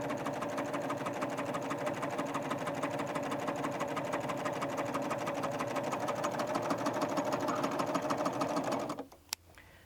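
A Baby Lock Ovation serger stitches steadily along the wrong side of fabric, a loud, fast, even mechanical whir with rapid needle chatter that runs continuously, then stops abruptly near the end.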